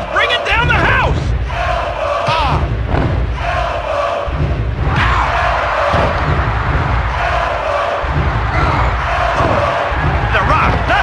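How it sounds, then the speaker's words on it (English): Arena crowd in the wrestling video game WWF Attitude on PS1, roaring and cheering loudly throughout, with thumps and slams from the ring and an excited commentator talking over it. "Man, this crowd is all pumped up."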